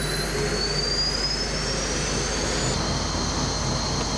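A military jet aircraft engine idles with a steady roar and high whine, with a thin rising tone, heard continuously and fairly close, with no voices.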